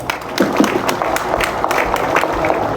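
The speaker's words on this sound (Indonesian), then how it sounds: "Tepuk tangan semuanya." Applause from an assembled audience at a police recruitment gathering, a dense, continuous patter of clapping at moderate level with some crowd noise mixed in.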